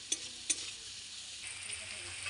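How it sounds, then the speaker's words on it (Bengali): Egg chowmein with chopped green chilli and salt sizzles steadily in a pan, a soft even hiss broken by two sharp utensil clicks near the start. "এবার এটা কিছুক্ষণ ভালোভাবে নাড়াচাড়া করে নিচ্ছি"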